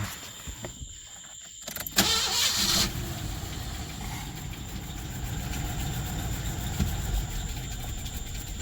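A car with an automatic transmission runs steadily at close range, with a brief burst of mechanical noise and a jolt early on as it is shifted into gear, then a continuous engine drone. No one speaks.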